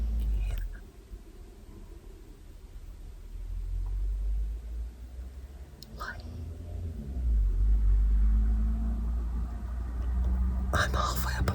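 A car passes at night on a mountainside, its low engine rumble swelling and fading through quiet darkness, with a faint whisper-like hiss over the top.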